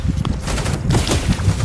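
Rapid gunfire in a sci-fi survival video game, dense bursts of shots with thuds and crackle, loud and close, continuous across the moment without speech.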